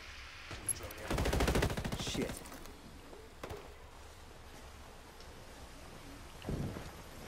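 Video game gunfire comes in a close burst of rapid automatic shots, followed by a few scattered single shots against quiet background noise, with a voice briefly heard.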